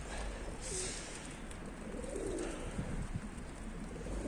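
Damascus pigeons coo softly and intermittently against a steady background hiss, the low rolling calls fairly faint and set a little back.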